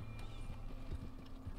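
Soft, rhythmic hoofbeats of a horse walking in the video game Red Dead Online, faint clip-clop steps over a low background hum.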